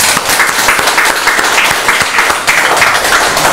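Loud, sustained applause from a church congregation fills the room at a counseling and healing center's dedication service, a thick unbroken roar of many clapping hands with a few sharper individual claps standing out.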